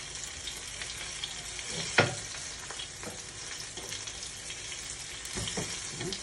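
Garlic and white onion fry in a pan with a steady close sizzle, punctuated by a few sharp clinks and stirring scrapes.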